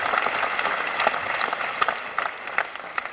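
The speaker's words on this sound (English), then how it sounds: "I always feel weird when people clap for that" Applause from a comedy show audience, a moderate burst of clapping with scattered sharper claps that thins out toward the end.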